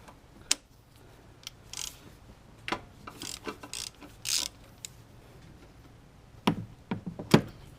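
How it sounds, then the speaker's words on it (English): A ratchet on a swivel extension works loose a motor mount bolt on a Toyota Supra or Lexus IS, giving scattered close clicks and short metallic bursts amid quiet pauses. "Now I can use my swivel from the top here to release it, the bolt down here."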